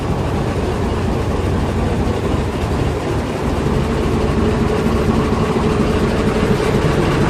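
A Mercedes-Benz OHL 1634 bus with a V8 engine and Laksana bodywork idles up close, giving a loud, steady, deep diesel rumble that holds without change throughout.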